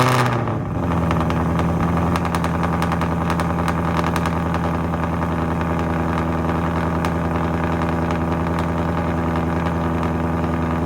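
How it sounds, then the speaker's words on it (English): 2024 Ford Mustang Dark Horse V8 cold start: the engine catches with a sharp loud burst in the first second, then settles into a steady, loud, rumbling high idle that carries on alone without speech. "Cold starts with the Dark Horse, I think, are probably the best right next to the Shelby, just from how it starts popping"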